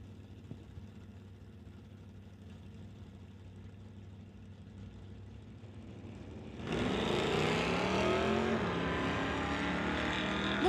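A 1968 Plymouth and a 1968 Chevelle launch at a drag strip. Faint idling is followed by a sudden, loud surge of engine roar that holds steady as the cars pull away.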